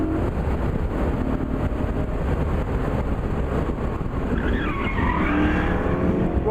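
A Tushek Renovatio T500 supercar on the move, its engine a steady close drone mixed with road and tyre roar, rising in pitch toward the end as it revs up.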